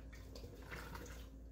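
Cool tap water pours steadily into a mead mixture as a soft, continuous, fairly faint wash of liquid.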